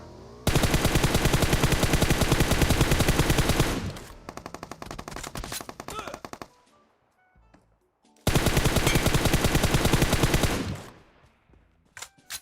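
Rapid automatic gunfire in the mobile battle game PUBG Mobile, a loud sustained burst of shots, then scattered bursts and a pause before another long, dense volley.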